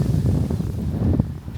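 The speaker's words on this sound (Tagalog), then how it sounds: "Lakas ng hangin oh." Strong wind buffeting the microphone, a steady low roaring rumble that swells and eases slightly.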